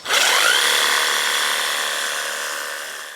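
A Worx Hydroshot power cleaner wand sprays the exterior of an RV on its high-speed setting, giving a steady, close, hissing rush with a rising whine at the start, heard alone for a few seconds.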